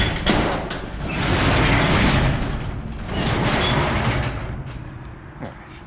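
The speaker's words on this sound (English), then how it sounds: "Let me open up this door, get some light in here." A sliding barn door being pushed open on a farm, a long grinding scrape and rumble of the door rolling along its track in two surges, close and fairly loud, with no talk.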